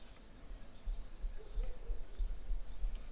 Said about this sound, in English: all I'm doing now is just removing that burr one stroke at a time, standing that burr on end at this point